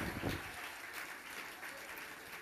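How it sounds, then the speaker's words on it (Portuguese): Audience applause at a church talk, steady clapping that sounds distant and fairly faint, with a soft rumble underneath. "Uma salva de palmas de novo para ela, gente."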